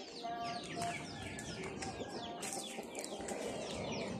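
Dense chirping and clucking from ducks and chickens kept for sale, layered over a loud, constant market hubbub.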